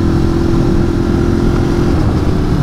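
A Ducati Streetfighter motorcycle engine drones steadily while riding, a loud continuous mid-pitched hum with wind noise and no break.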